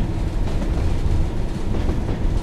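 Train Sim World 2 train on the Tees Valley Line running over Stockton Cut Junction, with a steady low rumble and rolling wheel noise, close and continuous throughout.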